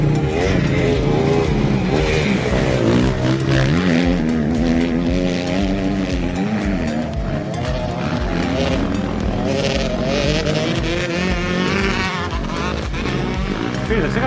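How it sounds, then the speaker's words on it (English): Two-stroke dirt bike engine on a muddy motocross track, a dense continuous roar with rising and falling pitch as the throttle changes, loud throughout with background noise and voices mixed in. "I think that sounds like a two-stroke."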